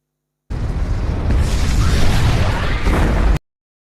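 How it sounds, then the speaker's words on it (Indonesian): A warship explodes in a naval battle in the film 300: Rise of an Empire. It is one loud, rumbling blast lasting about three seconds, with a roaring rush that cuts off sharply into silence. "Pasukan Persia lebih dulu melemparkan api ke kapal mereka, dan kapal pun meledak dengan dahsyatnya."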